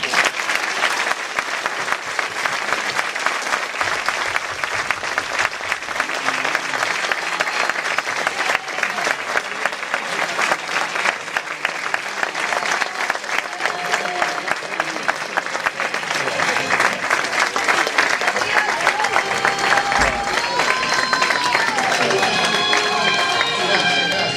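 Long, loud applause from a theatre audience after an Italian amateur stage performance of Madama Sangenella in Rocca San Felice, dense continuous clapping filling the hall, with raised voices and speech coming through over it toward the end.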